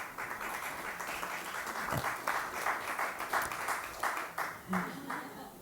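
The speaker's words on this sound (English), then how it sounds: "You should applaud, isn't it true?" An audience in an ashram gives light, scattered applause, a moderate patter of claps at middle distance with faint background murmur.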